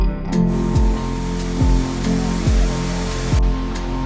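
Shiraito waterfall seen from a lookout above, a steady broad roar of falling water continuing throughout, with a few faint low thumps recurring every second or so beneath it.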